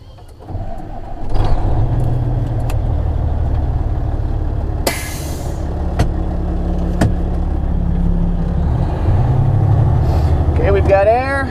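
A truck engine used for feeding cows cranks and starts, then settles into a loud, steady low rumble close by, with brief clicks and a rising whine of air and hiss near the end.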